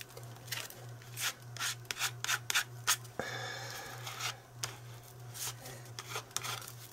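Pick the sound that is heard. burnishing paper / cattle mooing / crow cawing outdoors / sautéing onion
burnishing paper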